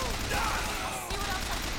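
Enemy gunfire in the video game Bioshock Infinite, a dense, continuous burst of shots filling the whole moment with a loud, noisy rattle and no talking over it.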